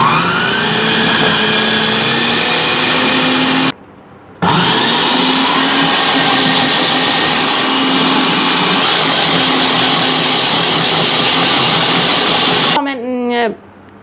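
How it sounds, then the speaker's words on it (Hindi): An electric chopper grinds minced meat with coriander, mint and ginger-garlic paste, a loud steady motor whine that cuts out briefly near the start, then runs on and winds down at the end. "अब हम इसको बंद करेंगे और हम इसको ग्राइंड कर लेंगे"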